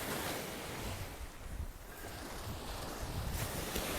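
Atlantic Ocean waves wash onto Playa Alicia beach in Sosúa on the north shore of the Dominican Republic, a loud, steady roar of surf with rumbling wind buffeting the microphone.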